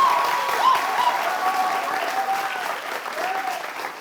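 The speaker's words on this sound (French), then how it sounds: "j'aimerais qu'on fasse un tonnerre d'applaudissements pour ces 12 candidats" A studio audience on a French television show gives sustained applause for twelve candidates, a thick continuous clapping with whistles riding over it at moderate loudness.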